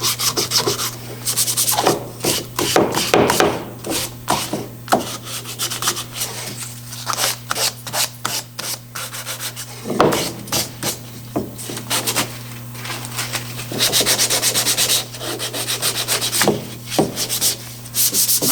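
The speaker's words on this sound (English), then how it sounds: "I'm going to go over the whole thing now with the 220 just to make sure it feels really good and finished" Hand sanding of a wooden speaker enclosure with 220 grit sandpaper, close, rhythmic rasping strokes in bursts with short pauses, over a steady low hum.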